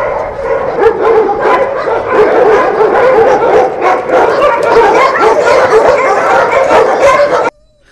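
Dogs barking and yipping continuously at close range, with whimpers mixed in among a dense, loud chorus that cuts off abruptly at the end; no speech.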